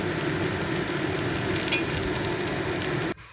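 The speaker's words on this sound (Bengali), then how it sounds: "লাল লাল করে পেঁয়াজটা ভেজে নিতে হবে" Sliced onions fry in oil in a kadai with a steady, fairly loud sizzle that holds without a break and then cuts off abruptly just before the end.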